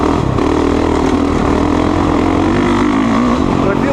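Honda CRF450R dirt bike being ridden, a loud steady engine drone with rising and falling pitch as the throttle shifts, close and continuous throughout.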